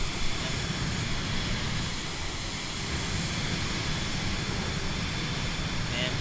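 A steady, droning DC-3 airplane engine in Microsoft Flight Simulator, an unbroken hum at constant level with voices talking over it.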